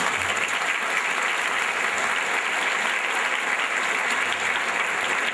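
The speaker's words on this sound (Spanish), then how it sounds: "Un aplauso más." A church congregation applauds at the close of a sermon during an October retreat, and the loud, sustained clapping from many hands fills the whole stretch at an even level.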